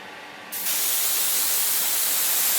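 Airbrush spraying paint onto an Italeri 1:72 SR-71 Blackbird plastic model kit: a steady, loud broadband hiss that bursts on after a brief quieter moment and continues without a break.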